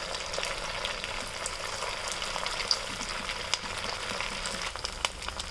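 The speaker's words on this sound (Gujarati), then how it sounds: "ગરમ તેલમાં આપણે એક એક કરીને વડા મૂકતા જશું" Farali dahi vada fritters, dropped one by one into a pan of hot oil over a medium-high flame, sizzle and crackle steadily throughout, with a dense continuous frying hiss and a few sharper pops.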